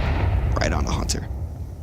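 A grenade detonates in a Counter-Strike pro match, a loud rumbling blast with a sharp crack under a caster's commentary, then fading into low background noise.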